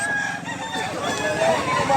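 A mature quality gamefowl rooster, about ten months to a year old and medium-sized, crows and clucks loudly at a busy market with buyers and sellers, with voices mixed in.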